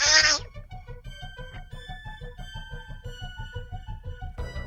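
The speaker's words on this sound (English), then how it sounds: "Cat sounds." A cat meows over and over in a steady rhythm, close and clear, with a brief louder burst at the start.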